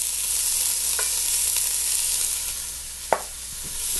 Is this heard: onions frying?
yes